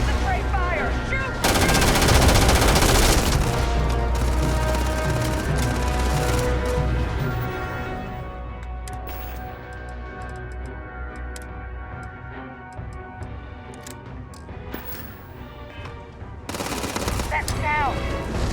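Gunfire in Starfield during a hunt for Terrormorphs in an abandoned city, loud bursts of rapid weapon fire and impacts over droning game music and effects, with shooting breaking out again near the end.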